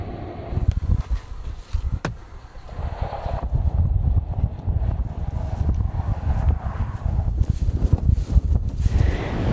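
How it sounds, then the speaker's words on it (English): Strong wind buffets a microphone in an open field during a late-season hunt in Iowa, a rough, gusty low rumble with irregular bursts and a few sharp knocks. "It's very, very windy out."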